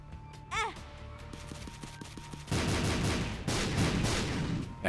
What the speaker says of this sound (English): this is gonna spawn a bunch of troll bombs